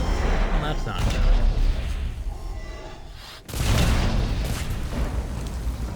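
Loud booming blasts from the video game Mass Effect 3 rumble continuously, with a sharp renewed burst midway through the clip, over a dense battle din.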